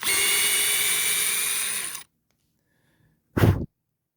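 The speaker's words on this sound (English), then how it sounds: "you're going to want to drill another hole" A power drill bores a hole in a board for a Cloud Wheel donut wheel set on a Meepo AWD Pro skateboard, a loud steady whine for two seconds, then silence and a brief thump.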